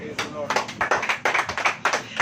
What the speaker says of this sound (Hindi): ताली हो जाइए।